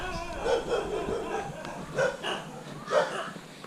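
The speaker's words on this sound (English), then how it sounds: "You got to get used to temple dogs in Thailand, don't you, if you live out in the countryside." Temple guard dogs barking at a countryside temple in Thailand, three separate bark bursts about a second apart, mid-distance, with outdoor background noise between them.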